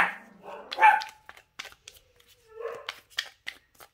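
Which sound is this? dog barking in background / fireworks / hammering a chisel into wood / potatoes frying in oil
dog barking in background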